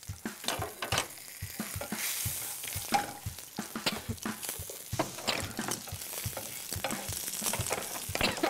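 Masala paste for an Andhra egg masala fries in oil under a steady sizzle, broken by quick, rhythmic scraping strokes of a spatula stirring close by.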